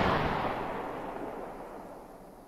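A flashbang grenade goes off in DayZ with a loud opening burst that fades into a long, smooth ringing decay.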